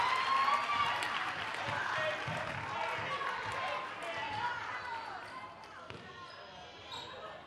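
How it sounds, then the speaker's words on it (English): A crowd at a Valley vs H-K girls' basketball game cheers after a basket, a steady loud roar of voices and clapping throughout, with a commentator talking over it. "The Valley crowd is going wild right now."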